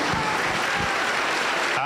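A church congregation applauds the Lord Jesus, a loud close wash of many hands clapping continuously, with people's voices mixed into the clapping.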